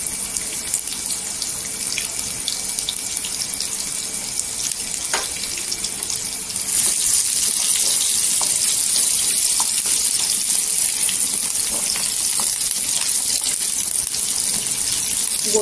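Onion goes into hot oil with crushed garlic for a Marathi-style tempering: a steady close hiss of frying that jumps louder partway through, with scattered pops and scraping clatter.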